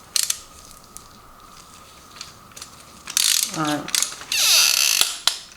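A ratchet clicks as it tightens main bearing bolts on a Subaru BRZ engine, with quick bursts of pawl clicking and longer runs of rapid ratcheting near the end, close up, and a single short spoken word early on.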